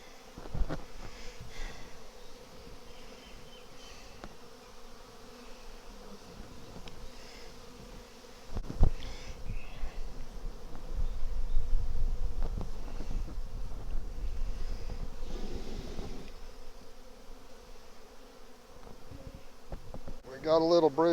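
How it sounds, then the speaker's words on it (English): Honeybees buzz in a dense, steady drone during a hive transfer from a three-deep nuc to a double deep, with occasional thumps and light wind noise, swelling louder through the middle. "Man, there's so many bees."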